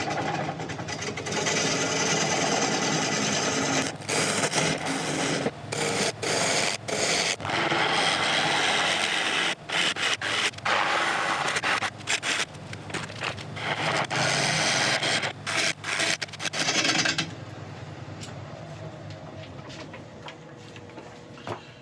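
A ball gouge cuts hard wood spinning on a lathe, giving a loud, continuous rasping roar broken by rapid stutters and short gaps, then it stops, leaving only the quieter hum of the running machine.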